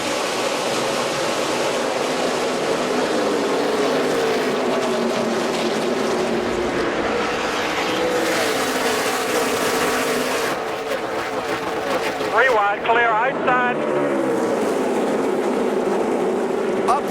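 NASCAR Nationwide Series race cars at Iowa take the green flag for the 2012 Pioneer Hi-Bred 250, a loud, continuous roar of many engines building across the field, with a commentator's voice running over it.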